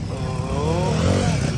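Motorcycle engines at a large bike event in Bangalore, a bike creeping slowly along a built off-road track, with a steady, close, rough engine drone and shifting revs throughout, voices faintly beneath.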